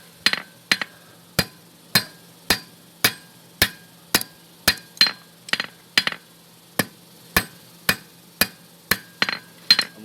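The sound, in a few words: blacksmith hammering a hot steel bar to forge a fork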